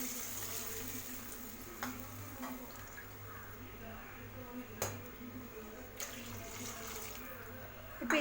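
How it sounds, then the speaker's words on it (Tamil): Water poured into a hot pan for rava kichadi, a soft steady splashing and sizzling hiss with a few clinks of utensils against the pan. "1 கப் ரவைக்கு 2 கப் தண்ணி."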